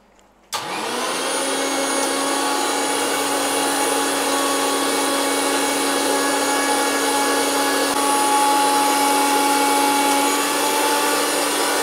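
A kitchen mixer grinder whirs loudly as it blends a green masala paste with water for chicken, the motor starting abruptly and then running at a steady high-pitched whine near the microphone, alone without talk.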